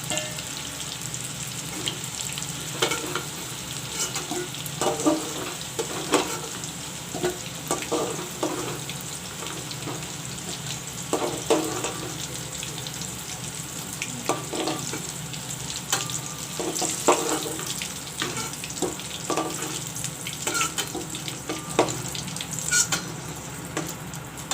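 Cauliflower and potato pieces sizzle steadily in hot oil, with a continuous crackling bubble and frequent close spatters and stirring clicks throughout; no one speaks.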